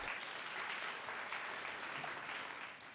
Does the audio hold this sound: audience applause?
yes